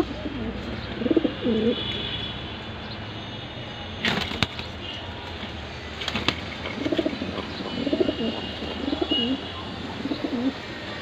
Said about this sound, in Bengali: really it's a beautiful pigeon